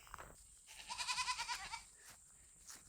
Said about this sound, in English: Can you hear them goats?